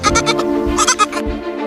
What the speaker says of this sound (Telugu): తిను మేక, తిను తిను.